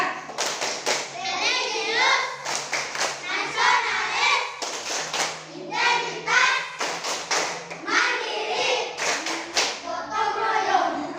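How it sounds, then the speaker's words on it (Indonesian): A classroom group performs the Tepuk PPK clapping routine, crisp patterned bursts of claps in repeating rhythmic phrases interleaved with children chanting along in unison, close and loud, with brief pauses between sections. "Tepuk PPK."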